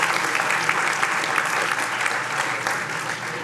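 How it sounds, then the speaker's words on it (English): Audience applause at the final round of an entrepreneurship pitch competition, a steady, dense wash of clapping that holds evenly throughout with no voices over it. "another round of applause for our sponsors"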